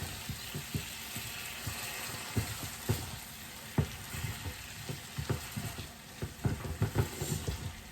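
Beef stock concentrate and water cooking down in a pan for cheesy steak sandwiches, a bubbling sizzle with frequent spoon scrapes and taps throughout, close and fairly loud.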